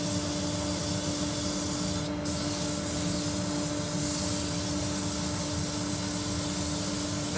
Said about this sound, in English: Okay, so we'll start sanding.